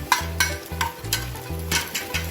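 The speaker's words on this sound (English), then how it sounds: "We'll stir this on low flame only" Hyderabadi paneer stirred in a pan over a low flame: rhythmic scraping strokes of a spoon against the metal, about six in quick succession, over a soft sizzle.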